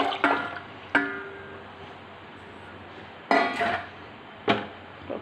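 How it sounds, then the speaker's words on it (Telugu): Water is poured from a cup onto soaked rice in a cooker pot while making pongal, heard as a few short splashing, clinking pours separated by quiet gaps, close and fairly loud. "1 కప్పుకి 2 కప్పులు నీళ్ళు పోస్తున్నాను."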